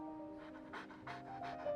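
A dog pants in Genshin Impact: several quick breathy huffs in a steady rhythm, close and fairly soft, over a quiet background tone.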